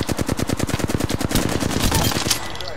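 Rapid automatic gunfire in a PC shooter video game: a fast, even burst of close shots for about a second and a half, then a denser, washier spray of fire that tails off.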